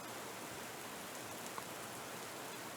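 Steady rain pours down continuously, a soft even wash of drops at a constant faint level with no voices, like a downpour heard from indoors near a shower.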